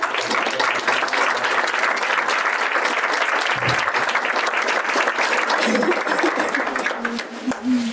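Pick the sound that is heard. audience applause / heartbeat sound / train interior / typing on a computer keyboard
audience applause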